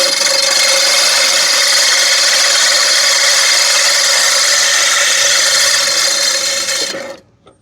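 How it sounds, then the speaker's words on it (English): A drill drives the reel of an Allett Stirling cylinder mower for backlapping, a loud continuous grinding whir with a steady gritty rasp, running without pause for about seven seconds before winding down and stopping. "So I backlapped for a little bit."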